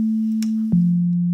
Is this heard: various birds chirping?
no